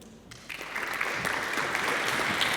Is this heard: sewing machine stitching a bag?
no